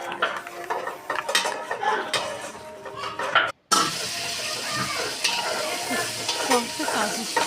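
Garlic fries in a pan for a sauce thickened with cornflour: a continuous hissing sizzle with scraping and clinking as a utensil stirs against the pan, a brief gap, then steady frying again.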